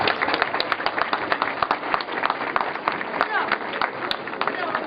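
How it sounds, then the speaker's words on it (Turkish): Audience applause at a gathering of disability associations and parents, a steady dense patter of many hands clapping throughout, with voices talking over it. "o kuvvetli bir alkışı hak ediyor yani."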